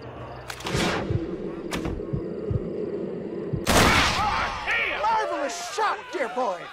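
Gunfire in Red Dead Redemption: several sharp cracks and heavy thuds close together, followed by a loud burst and a jumble of shouting voices and echoing noise.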